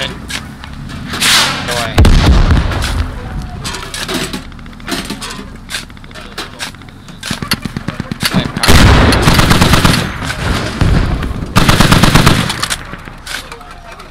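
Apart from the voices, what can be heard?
AA gun firing in a video game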